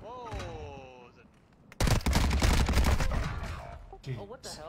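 Rapid bursts of video game gunfire erupt loud and dense in the middle of the clip, with excited voices talking and exclaiming before and after the shooting.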